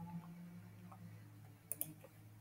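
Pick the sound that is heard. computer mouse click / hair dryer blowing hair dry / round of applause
computer mouse click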